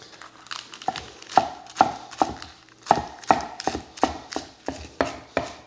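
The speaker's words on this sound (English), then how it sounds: "so I'm just gonna cut this up" Chef's knife cutting romaine lettuce on a board for Caesar salad, a brisk series of about a dozen crisp chops with leafy crunch, fairly regular and close.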